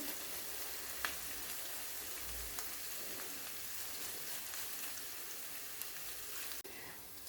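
Tomato paste and garlic frying in a pan for a green bean dish, a faint, steady close hiss with occasional soft pops and no talk.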